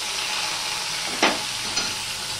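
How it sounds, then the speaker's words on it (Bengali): Ginger, tomato and green chili sauté with ash gourd in a hot pan, a steady close sizzle broken by a couple of brief stirring scrapes. "দিয়ে এটা আমি কষতে থাকবো যতক্ষণ না আদার কাঁচা গন্ধ চলে যায় আর টমেটোটা নরম হয়ে যায়"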